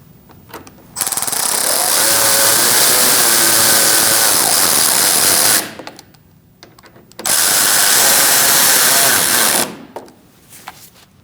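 A power tool tightens the AC condenser bolts on a 2016-2019 Chevrolet Cruz, running in two loud sustained bursts of several seconds each, close by with brief quiet between them.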